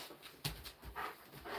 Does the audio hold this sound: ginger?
no